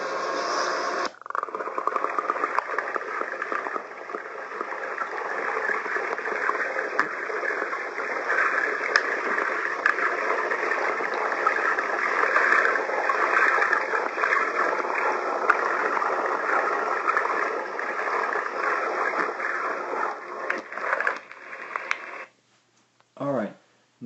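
Underwater in a swimming pool, a lifeguard swims inverted breaststroke while towing a victim; a steady, muffled rush of churning water runs throughout, then breaks into a few short bursts near the end.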